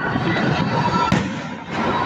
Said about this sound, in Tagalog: wow, ganun fireworks te!